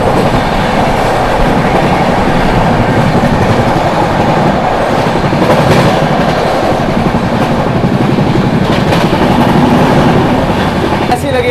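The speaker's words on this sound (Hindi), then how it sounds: "यहाँ पर हमने संगम को ओवरटेक कर दिया है।" A Dehradun-Subedarganj express overtakes the Sangam Express, heard from on board as a loud, continuous rumble of rolling wheels and rattling coaches.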